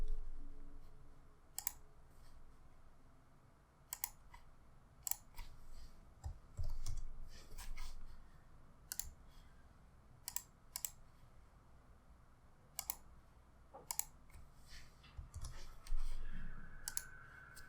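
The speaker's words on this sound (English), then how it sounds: "Now just click on Services, type Lambda, and then open it in a new tab." Computer mouse clicks and keyboard typing on a quiet desk, sharp isolated clicks scattered across the stretch with short bursts of soft key taps between them, close and fairly faint.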